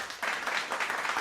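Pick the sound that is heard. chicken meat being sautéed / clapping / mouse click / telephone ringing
clapping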